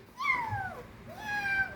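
A young child imitates a cat, producing two drawn-out, wavering meows close by at a fairly soft level.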